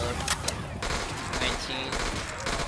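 Call of Duty custom zombies gunfire: several bursts of rapid shots crackle over a busy game soundscape, loud and close, with a brief lull between volleys.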